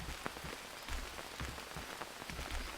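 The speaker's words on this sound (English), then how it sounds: "Still raining, which is great." Steady rain falls continuously in the jungle survival game Green Hell VR, a soft, even patter of drops hitting surfaces with no voices over it.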